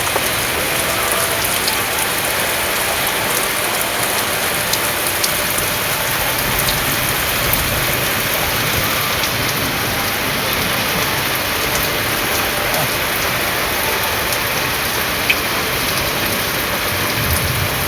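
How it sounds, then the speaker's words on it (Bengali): Heavy rain pours down steadily in a village, a dense continuous hiss of water drumming on surfaces, loud and close throughout with no voices. "তোমাদেরকেও বৃষ্টিটার আওয়াজটা একবার শোনাচ্ছি, তোমরাও দেখো বৃষ্টিটা কতটা জোরে এবং কতটা পরিমাণে হচ্ছে"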